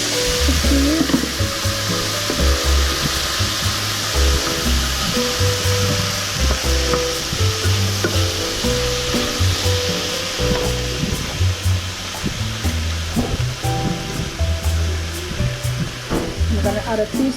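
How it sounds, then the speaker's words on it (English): Chickpeas sizzle and crackle steadily in a hot frying pan, a continuous loud frying hiss with small pops and occasional stirring scrapes, close up and without talk. "So now I'm gonna throw in my chickpeas."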